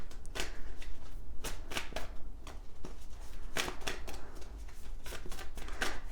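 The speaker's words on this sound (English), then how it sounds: "So we're going to just keep shuffling." Tarot cards shuffle close up in repeated riffling bursts, crisp papery flutters and slaps coming in an uneven rhythm over a low background hum, with nobody speaking.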